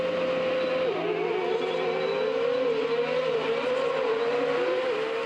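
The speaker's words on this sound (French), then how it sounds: "Ces bruits de moteur, on les entend depuis bien longtemps ici, sur le circuit d'autocross de Saint-Georges" Autocross race cars roar around the Saint-Georges dirt circuit, engines droning continuously with shifting pitch as they rev and change gear, loud and steady without any talking.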